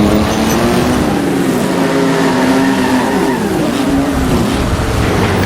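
A race car in a racing video game rattles over cobblestones in low gears, its engine droning loud and steady with a continuous buzzing vibration throughout.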